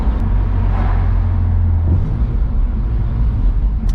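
A BMW E46 M3 with SMG gearbox drops a gear, its engine giving a short throttle blip midway amid a steady low, close drivetrain rumble.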